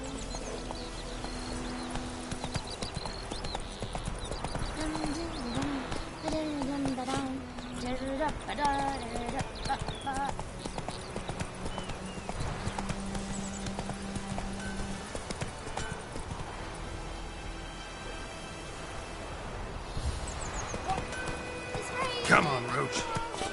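Roach, the horse in The Witcher 3, gallops with rhythmic hoofbeats and an occasional whinny under music and game ambience, with the rider's voice heard now and then.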